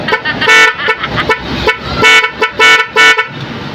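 A motorcycle musical horn (Nhay 3 Pro on a Honda XRM 125) honks a short melodic sequence of loud, bright toots, rising and falling in pitch, close by with no talking.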